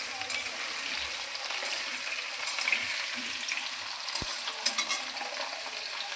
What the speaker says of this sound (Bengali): আলুগুলিকে কিন্তু আমি ভেজে নেব এখানে